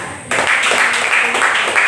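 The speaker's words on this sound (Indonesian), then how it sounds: "Mari kita sambut kelompok yang kedua dengan tepukan tangan." A classroom breaks into applause to welcome a student group, many hands clapping together in a loud, sustained burst that starts abruptly and continues steadily.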